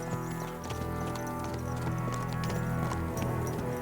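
Horses clip-clop in the medieval role-playing video game Kingdom Come: Deliverance II, several hooves striking in an uneven rhythm over a low musical drone, moderately loud and close.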